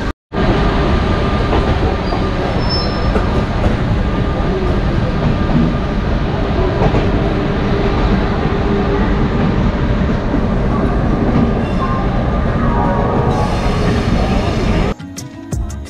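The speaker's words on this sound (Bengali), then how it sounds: "আমাদের ট্রেন চলে এসছে প্ল্যাটফর্ম নাম্বার 8-এ, আর এখান থেকে ছাড়বে 8:35-এ" The Howrah–New Delhi Duronto Express (12273) waits at a platform in Howrah station amid a loud, constant rumble of rail noise and station bustle, cutting off abruptly near the end.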